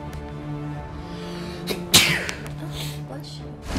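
A single sharp sneeze bursts out about halfway through, close and fairly loud, over the low hum of a Call of Duty Mobile ranked match.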